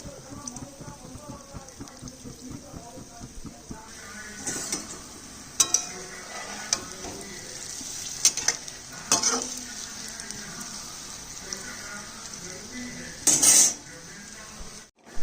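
Jackfruit fritters fry in oil over a lowered gas flame, a soft continuous sizzle broken by scattered clinks and scrapes of a utensil against the pan, with one louder rattle near the end.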